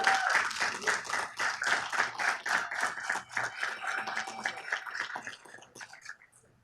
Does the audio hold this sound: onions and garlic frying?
no